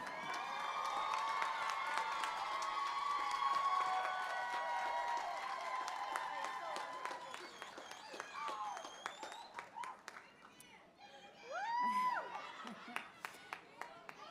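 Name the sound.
audience applause and cheering for graduating class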